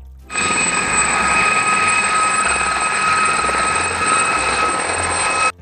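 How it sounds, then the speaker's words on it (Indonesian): Toy helicopter giving off a steady electronic whirring buzz with high whining tones. It starts abruptly, stays loud and close for several seconds, then cuts off. "helikopter."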